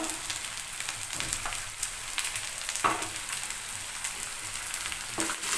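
Whole small shallots sauté in hot oil while radish chutney is cooked, giving a steady close sizzle punctuated by repeated scraping strokes of a stirring spoon.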